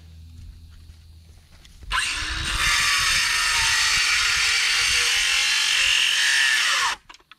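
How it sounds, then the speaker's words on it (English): A Ryobi circular saw cuts through a wood fence post outdoors, whining loudly at a steady pitch for about five seconds before it stops, with quieter handling noise beforehand. "So now we'll take the circular saw, just infield Ryobi version,"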